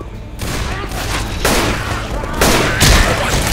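Rapid gunfire from Left 4 Dead 2 in the Dead Center campaign comes as loud, close bursts of overlapping shots that swell and fall over a few seconds, with faint game voices underneath.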